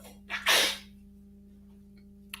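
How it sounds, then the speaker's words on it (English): A single sharp human sneeze, a quick intake followed by a loud, close burst, then a near-silent pause with a steady electrical hum in the background. "I'm going to sneeze"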